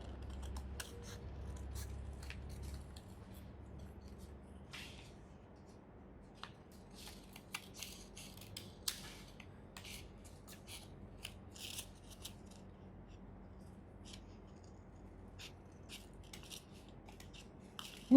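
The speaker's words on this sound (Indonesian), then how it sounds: "Kita gunting lagi." Scissors snipping paper into a star shape, a steady series of short crisp cuts close by, faint and dry against a quiet low hum, with no talking.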